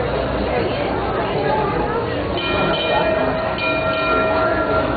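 A Disneyland trolley rolls along its track with a continuous rumbling ride noise and faint bell-like tones, while a guide speaks over it.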